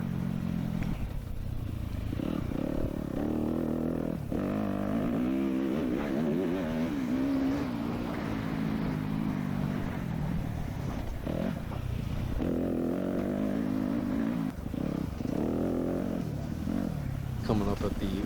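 A dirt bike races through rough, choppy ground in a hare scramble, its engine revving up and down continuously and loud, with rattling and clattering from the rough terrain.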